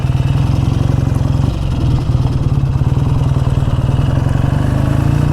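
A BSA A10 Super Rocket motorcycle engine runs steadily nearby, a loud, even, rapid thumping idle with a mechanical clatter and a slight dip in pace midway, no voices.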